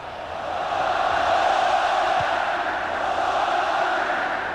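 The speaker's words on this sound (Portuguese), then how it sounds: "Vai começar a gritar olé a torcida do Corinthians." Corinthians supporters chant olé in a packed stadium during the 1998 Brazilian championship final against Cruzeiro, a sustained distant roar of many voices swelling and holding steady throughout.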